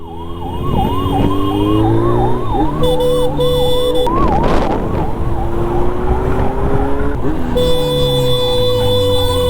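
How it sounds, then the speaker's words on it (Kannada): A wailing ambulance siren cycles loudly and continuously through Bengaluru city traffic, its rising and falling tone close by over the rumble of vehicles, with brief bursts of other horn-like tones in between. "ಜಾಗ ಬಿಡಿ, ಜಾಗ ಬಿಡಿ, ಆಂಬುಲೆನ್ಸ್ ಹೋಗ್ಲಿ."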